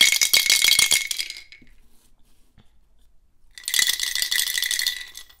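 A homemade Montessori sound cylinder shaken in two bursts of dense, close rattling separated by a quiet pause with a couple of soft taps.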